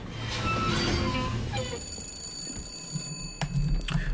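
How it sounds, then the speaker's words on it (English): A telephone rings in the video game BioShock Infinite, a steady bright metallic ringing that starts partway through and keeps going over the game's ambient background sound. "Oh, another phone call."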